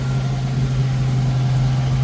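Jeep engine idling slightly high after a fuel and ignition refresh, a close, steady low hum with a constant droning tone and no other sounds.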